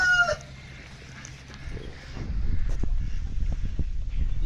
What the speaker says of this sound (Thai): ไก่พันไข่เลยตัวนี้เนาะ